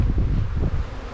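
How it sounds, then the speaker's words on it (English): Wind blows on a windy day, buffeting the microphone in short gusty rumbles, close and alone with no voices. "Windy day."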